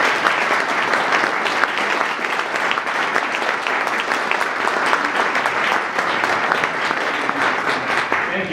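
Steady, sustained applause from a conference audience welcoming the state transportation commissioner, a dense crowd clapping evenly throughout.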